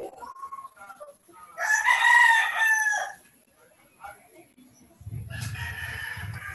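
A rooster crows loudly in a long rising and falling call, with softer clucking and fowl sounds before it and a muffled thump and rustle near the end.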